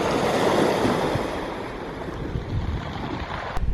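Waves wash onto a beach at Paphos, Cyprus, in a loud, continuous rush, with wind buffeting the microphone and a brief thump near the end.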